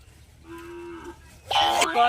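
A buffalo moos at close range, first with a low sustained call and then a louder, rougher bellow that rises and wavers before ending.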